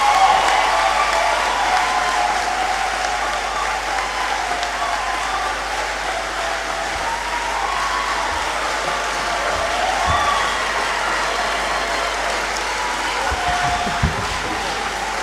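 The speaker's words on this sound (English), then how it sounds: "by way of applause, please join me" Audience applause welcoming a lecturer at a memorial lecture, a broad sustained round of clapping from a large hall, steady for the full length with a few low thumps near the end.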